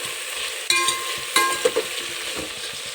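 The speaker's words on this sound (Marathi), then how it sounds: "सगळं एकजीव करून घेऊ. आता टाकू चवीनुसार मीठ. मिक्स करून घेऊ सगळं." A spiced rice mixture fries in a pan with a steady close sizzle while a spoon stirs it, giving a few sharp metallic scrapes and clinks against the pan.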